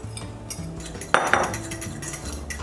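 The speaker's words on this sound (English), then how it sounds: "We're gonna add in our fluffy yeast mixture." Kitchen clatter while adding a yeast mixture to a bowl for biscuit dough: light clinks of utensils and dishes, with one sharper metallic clank of a spoon against the bowl in the middle, close and clear.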